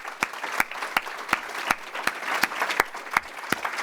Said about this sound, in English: If we could just have another quick round of applause for this panel and all of our speakers today